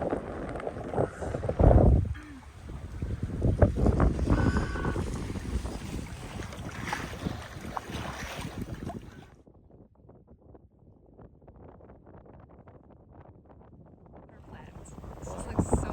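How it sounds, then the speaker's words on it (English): Strong wind buffets a small boat heading out through Amsterdam harbor, a loud rushing roar with gusty microphone noise that later eases to a lower rumble, with faint voices beneath. "The wind has picked up, but it's right on our nose"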